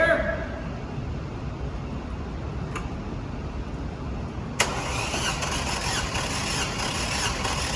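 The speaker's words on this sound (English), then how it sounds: "I'm going to step in, floor the accelerator, crank it for 6 hits" A car engine being cranked with the accelerator floored during a compression test, a steady rhythmic starter churn running continuously, loud and close, brightening partway through, with no talk over it.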